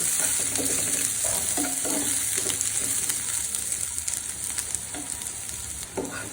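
Onions frying in oil in a pan, giving a steady hiss and sizzle with occasional soft stirring scrapes, close and continuous with no talking.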